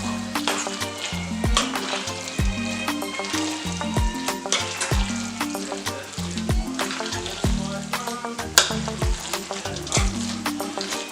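Vegan, soy-free mac and cheese sauce is stirred in a pot, giving repeated wet sloshing and scraping strokes in a steady rhythm, close and moderately loud, with a faint sizzle underneath.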